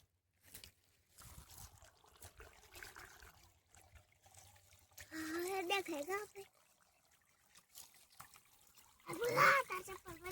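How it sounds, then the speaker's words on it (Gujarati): Water from a motor pump trickles and flows through an irrigation channel on a village farm in summer, a soft continuous gurgle under two bursts of voices. "તો નીકમાં પાણી આવી ગયું છે"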